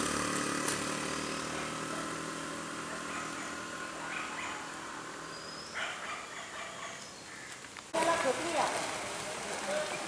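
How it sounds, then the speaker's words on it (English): Rain falls near the finish line of a marathon at Harmal (Arambol), Goa, making a soft, steady hiss throughout. A few faint voices and scuffles sit in the background, and the hiss brightens briefly near the end. "It's raining now."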